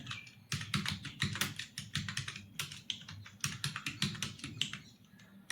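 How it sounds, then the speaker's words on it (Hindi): Rapid keystrokes on a computer keyboard during a typing test, a dense run of clicky taps in uneven bursts with short pauses, close and fairly loud, with no voices. "अब मान लो यहाँ पर आपको टाइप ही करना है"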